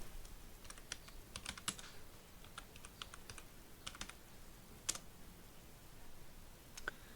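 Soft, close keystrokes on a computer keyboard fall in small irregular clusters of clicks with pauses between them, typed quietly with no speech.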